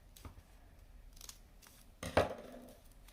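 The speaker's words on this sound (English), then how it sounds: "But any of these other parts you can cut however you want to." Scissors snip through folded paper while cutting a snowflake for a wall hanging: a few soft, quiet cuts, then one crisper, louder snip near the end.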